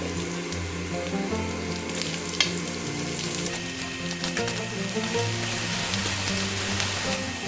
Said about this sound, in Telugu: ఇప్పుడు మనం ఆనియన్స్ వేసుకుందాం